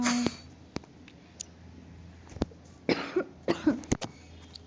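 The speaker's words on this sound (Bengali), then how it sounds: "উইন্টারে সর্দি কাশিতে, মানে সর্দি কাশিতে একদম অবস্থা টাইট হয়ে যায়" A person with a winter cold lets out a burst of short coughs and throat-clearing sounds, fairly near but soft, with a clicking sound and background hum throughout.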